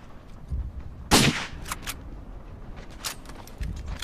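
Gunshots in a video game: a sharp, loud blast followed by a few quicker, fainter shots and snaps, spread over a few seconds with low thumps in the background.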